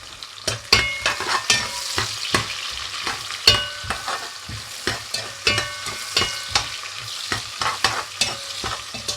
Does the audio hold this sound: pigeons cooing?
no